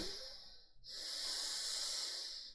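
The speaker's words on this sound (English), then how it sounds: "Through the noise of the breath, you can make out that you are breathing both from the belly and the rib cage" Deep breathing from the belly and rib cage: a soft airy inhale, a brief pause, then a longer, steadier hissing exhale, heard close and quiet with no voice.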